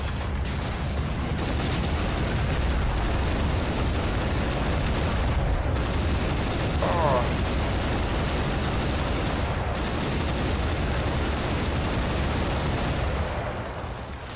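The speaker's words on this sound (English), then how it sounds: "That vehicle that's shooting." Sustained, heavy gunfire pours from an enemy vehicle in a combat game, a dense, loud, continuous barrage of rapid shots and booms that runs without a break, with no talking over it.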